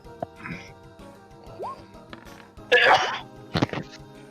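One loud, close sneeze bursts out in the middle of a tabletop role-playing game session, with people talking around it.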